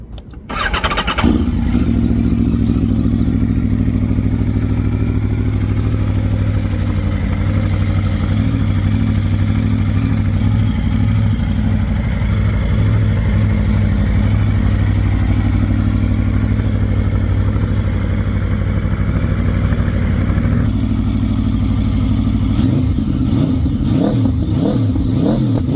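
A limited edition 2023 Aprilia RSV4 Factory superbike fires up with a sharp start, then holds a loud, steady idle up close before a series of quick throttle blips near the end, with no talking.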